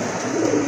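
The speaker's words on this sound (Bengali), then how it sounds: "আরেক জোড়া কবুতর, এটা হচ্ছে আপনার ব্ল্যাক টেইল মার্ট কবুতর" Black tail pigeons coo in a low, throaty murmur, a single soft burst close by with no talking.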